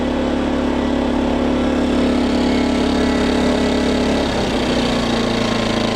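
A Matrix PG2000i portable inverter generator runs close by with a loud, steady engine drone, its pitch dropping and settling near the end.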